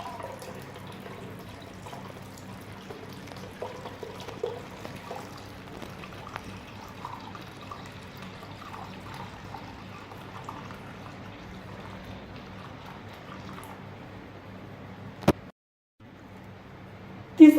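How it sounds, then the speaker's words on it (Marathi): Starch from the second soaking water of wheat is strained for kurdai, giving a quiet, continuous pour and trickle of liquid with a few small splashes and a short gap near the end. "दुसऱ्या पाण्यातलं चिक गाळून घेऊया."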